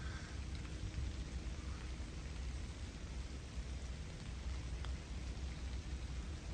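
Steady rain falls outdoors on a marsh walk, a dense even patter with a low rumbling wash beneath it and no voices.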